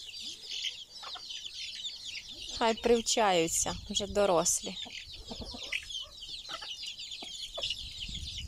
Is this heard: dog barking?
no